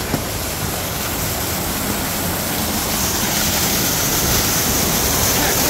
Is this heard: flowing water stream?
yes